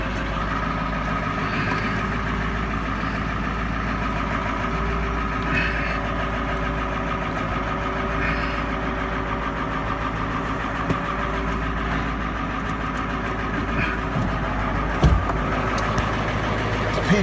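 A cold Ford SuperDuty rollback truck's diesel engine fires up after the glow plug wait and settles into a steady, loud rumbling idle, close by, with no talk.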